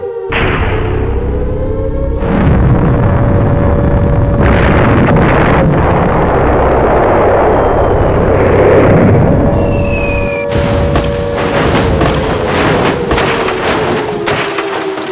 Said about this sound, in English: As the bombs were falling quite close, I felt it imperative that I move on.